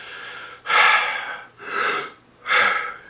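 A person yawning three times in a row, each a long breathy inhale-and-exhale swelling then fading, close and fairly loud with short pauses between.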